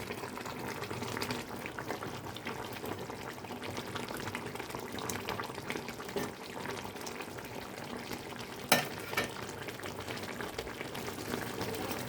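Eggplant pieces go into a pan of fish frying in oil for a Bengali fish curry, giving a steady close sizzle and bubbling with one brief sharp clink partway through and no talking.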